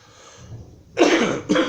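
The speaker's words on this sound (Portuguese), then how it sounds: "estou um pouco resfriado, tossindo" Two short, harsh coughs from a man who has a cold, close and loud, the second following half a second after the first, preceded by a quiet room with faint background murmur.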